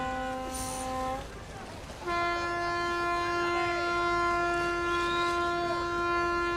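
A horn sounds from a finish ship at a skûtsjesilen sailing race, a loud sustained tonal blast that breaks off briefly and resumes for a longer steady blare over faint background crowd noise.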